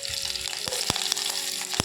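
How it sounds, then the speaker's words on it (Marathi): Cumin seeds, torn curry leaves and onion crackle in hot oil for a Marathi-style tempering for dal, giving a steady close sizzle broken by a few sharp spoon clinks against the pan. "टाकायचं थोडंसं जिरं थोडासा तुकडे करून टाक केलेला कढीपत्ता आणि नंतर कांदा"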